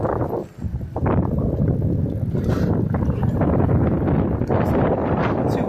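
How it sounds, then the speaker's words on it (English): Steady wind buffets the microphone of a moving electric bike, a loud, continuous low rumble that swells and roars with no voices, running nearly unbroken except for a brief lull near the start. "It's too windy out here."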